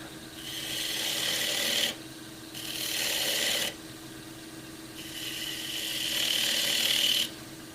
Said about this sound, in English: So I'm going to cut the rest of the tenon with a spindle gouge